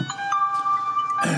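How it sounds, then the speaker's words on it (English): Dash cam mounted inside a car chimes as it powers up after the engine starts: a sustained electronic tone holds for about a second, close and clear, bracketed by brief rustling noise. "that noise is my dash cam up there"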